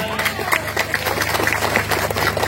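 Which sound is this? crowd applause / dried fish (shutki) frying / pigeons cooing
crowd applause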